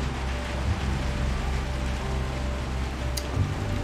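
Rain in the video game Little Nightmares 2, a steady hiss of rainfall on surfaces over a low rumbling bed, constant and even throughout.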